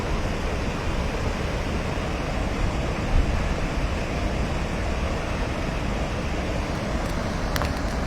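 Water released through two opened gates of the Dantiwada dam in Banaskantha roars in a steady, dense broadband rush that holds unbroken for several seconds, with no voices over it.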